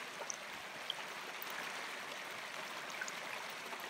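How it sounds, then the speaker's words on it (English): A cold mountain stream near a campsite flows in a steady, even rush of water, constant and moderately close with no voices. "I'm at the stream getting water."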